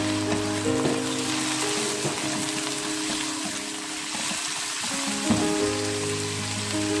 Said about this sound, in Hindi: चिकन को आप 1 मिनट तक पहले फ्राई करें